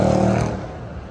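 A loud car engine roars past on a busy Dubai street on an Eid night, a brief, close rumble that fades within a second.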